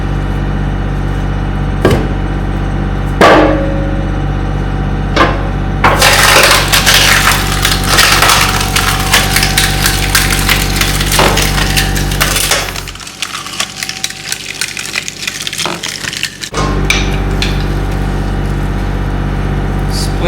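A new 2025 Kindling King Processor-143 splits straight-grain wood with sharp cracks and splintering crunches over a constant machine hum, followed by a brief quieter lull and more splitting.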